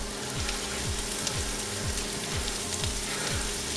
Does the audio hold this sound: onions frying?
yes